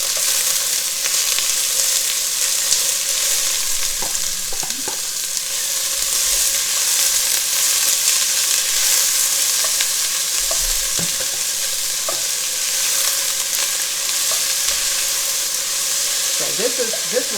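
Onions frying and caramelizing in a pan for a gumbo roux: a steady, loud sizzle throughout, with occasional scrapes from a spoon stirring.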